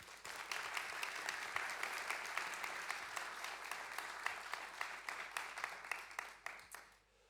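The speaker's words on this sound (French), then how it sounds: "Un tonnerre d'applaudissements," Conference audience applauding for a French football club figure, a room full of steady clapping with distinct individual claps standing out, holding level before tapering off at the end.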